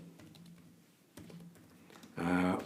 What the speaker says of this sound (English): Difficult to talk and type at the same time, I find.